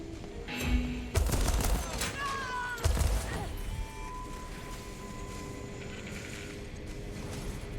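Gunfire in Deathloop sounds as a few sharp, punchy shots close by in the first three seconds, followed by a low mechanical ambience, with faint speech in the background.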